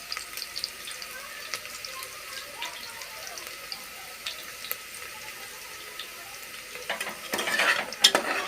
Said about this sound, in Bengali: দেখুন বন্ধুরা, পেঁয়াজটা ভাজা ভাজা হয়ে এলে